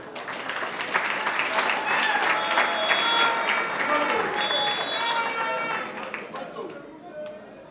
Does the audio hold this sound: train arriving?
no